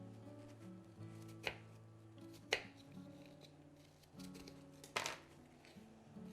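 A knife cuts through thin spiralized apple slices on a board, three or four crisp, close chops spaced about a second apart over a quiet background.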